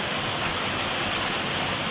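A Sardinian waterfall roars in a steady, dense rush of falling water, loud and close, unbroken from start to finish with no voices.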